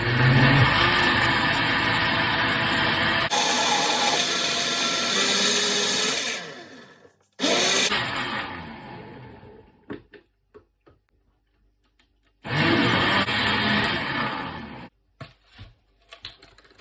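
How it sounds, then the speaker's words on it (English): A blender whirs loudly, mixing a carrot and beetroot drink with condensed milk, in two long bursts separated by a short pause and clattering handling noises, then a further run before it cuts off, leaving scattered knocks. "And now I am going to blend this again."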